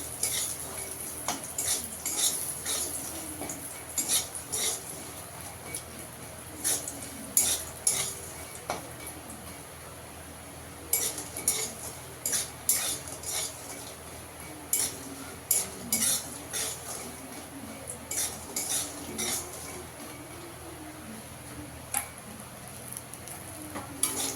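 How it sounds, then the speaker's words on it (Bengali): Lentil dumplings (bori) fry in a pan with a faint, steady sizzle, broken by repeated clinks and scrapes of a metal utensil stirring against the pan, close and unaccompanied by speech. "বড়িটাকে একটু লাল করে ভেজে নেব"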